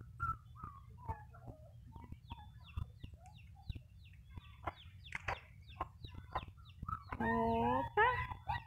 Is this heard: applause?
no